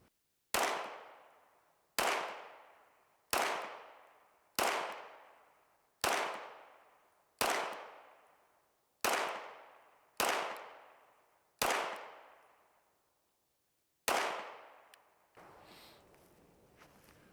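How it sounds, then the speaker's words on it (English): Ten sharp gunshots from an HK VP9 A1F pistol ring out one by one at an even pace, each loud crack trailing into a short echo, followed by quieter handling noise. "First shots with the new VP9 A1F. Got 10 rounds in her."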